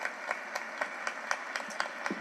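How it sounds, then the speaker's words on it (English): Steady applause from a crowd, with a few regular, distinct claps standing out over a dense, fairly faint wash of hands. "give her applause."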